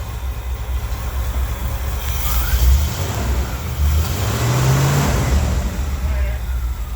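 An old beater car with a freshly tightened exhaust pulls away, its mid-pitched engine revving up and easing off, fairly near, with wind buffeting and people talking over it.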